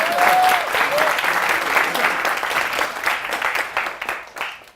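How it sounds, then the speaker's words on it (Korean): A crowd of youth and audience at a Suwon civic event applauds loudly, dense clapping that holds steady for several seconds before gradually thinning out. "그 꿈을 이루어지도록 박수 한번 해줘요"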